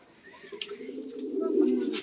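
Lahori pigeons kept in pairs give soft, low, throaty coos that swell and repeat close by, growing slightly louder toward the end.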